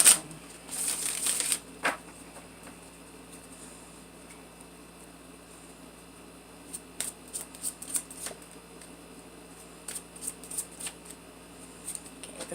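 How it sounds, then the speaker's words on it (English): Tarot cards shuffled in the hands, a quick riffling burst near the start followed by scattered soft flicks and taps, close but quiet in a still room. "Do one more shuffle."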